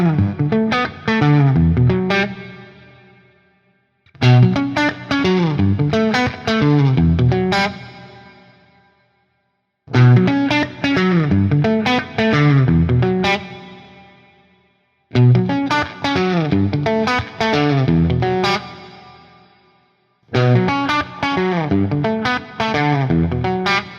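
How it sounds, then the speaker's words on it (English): Electric guitar on a strandberg Prog guitar using the neck humbucker pickup, playing a repeated melodic phrase with effects and slight distortion, five similar passes separated by short pauses, loud and close with no talking. "So this is the actual humbucker sound that you're going to get."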